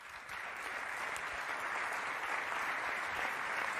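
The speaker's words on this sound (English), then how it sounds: "a warm Maranello round of applause for the fans" Sustained applause from a crowd of Ferrari fans at the Maranello team presentation, a dense even patter of many hands clapping steadily throughout, loud and close with no voices over it.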